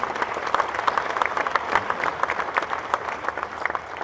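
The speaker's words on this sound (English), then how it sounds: "let's give Gene and Sheila a round of applause" Steady applause from an audience at the outdoor unveiling of a statue at Ohio Stadium, many hands clapping at once in a dense, even wash that keeps going with no break.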